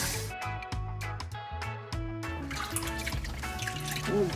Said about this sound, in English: We're going to start out with some parboiled rice, which you will need to wash